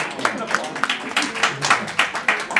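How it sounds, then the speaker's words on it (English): Wedding guests applaud during a toast, a quick run of sharp, fairly close claps beneath a voice that keeps talking. "Yeah, you can applaud."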